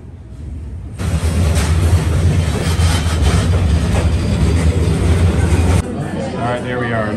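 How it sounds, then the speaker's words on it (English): A train in Vietnam rumbles past close by, a loud steady roar with rattling, while voices chatter faintly underneath; the noise cuts off sharply near the end. "Here's the train."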